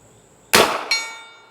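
Big bore air rifle pellet striking a steel silhouette target at 55 yards: one sharp metallic clang after the shot, ringing briefly with a second bright ping as the steel settles, loud and clear with no talking.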